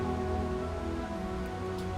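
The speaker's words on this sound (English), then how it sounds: "So practically it's raining really hard outside" Steady heavy rain pours outside without a break, a dense, even hiss that sits close and fills the whole clip, with no voices over it.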